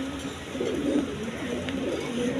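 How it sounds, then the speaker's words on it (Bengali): Healthy pigeons coo softly and continuously, low murmuring calls over a steady background hum, moderately close. "একদম সুস্থ সবল কবুতর দেখেন"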